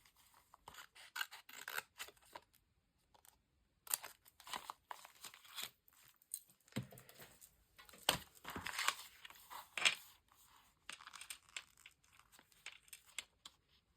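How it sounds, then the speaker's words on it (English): Repeated snipping of scissors, close up, in irregular bursts with small squeaks and rasping blade sounds, no talking. "scissors are squeaky."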